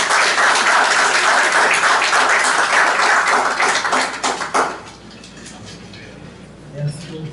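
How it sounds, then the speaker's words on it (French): A church congregation at a Sunday service claps in dense, loud applause that carries on for several seconds, then thins into scattered claps and dies away into quiet room tone. "Nous accueillons la sœur Charline avec un applaudissement."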